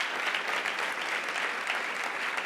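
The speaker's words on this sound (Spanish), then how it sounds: "Dale un aplauso al que se lleva toda la gloria y la honra." A church congregation applauds during a sermon, with brief, dense, evenly sustained clapping of moderate loudness and no speech over it.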